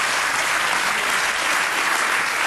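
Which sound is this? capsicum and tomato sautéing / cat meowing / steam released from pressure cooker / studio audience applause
studio audience applause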